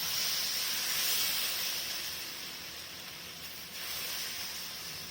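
Dosa batter made from ragi and rava hitting a hot griddle, a steady hissing sizzle that runs throughout with a slight swell near the end, moderately quiet and without voices.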